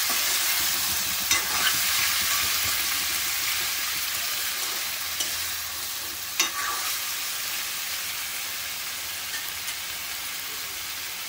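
Sweet potato is stirred in oil in a frying pan for a fasting-style tempered dish, giving a continuous loud sizzle with occasional scraping clacks of the spoon throughout, alone without talk.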